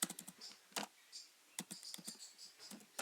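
Typing on a computer keyboard while writing Java code, quick irregular clusters of close, crisp key clicks with short pauses between bursts.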